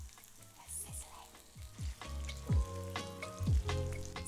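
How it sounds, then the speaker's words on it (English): Bananas sizzle in hot caramel, a steady crackling fry punctuated by several louder bursts and pops, close up with no talking. "They're sizzling."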